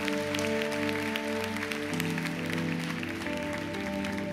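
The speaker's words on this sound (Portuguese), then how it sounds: "Você pode aplaudir o Senhor Jesus" A church congregation applauds at a service, steady dense clapping that runs the full length over sustained organ or keyboard chords.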